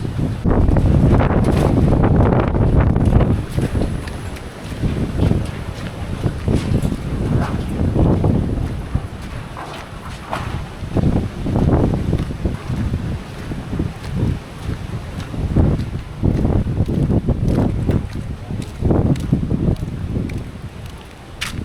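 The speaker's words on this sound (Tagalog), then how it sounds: "Kanina umaambon pero lakas pa rin ang hangin guys." Strong gusty wind during a super typhoon roars and buffets the microphone in surging waves, easing briefly before building up again.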